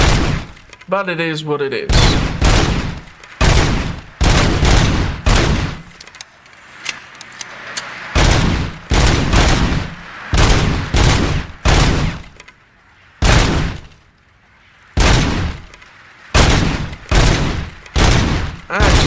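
Gunfire from a weapon in the video game Robocop Rogue City rattles out in loud, rapid bursts separated by short pauses, repeating throughout, with someone briefly speaking between volleys.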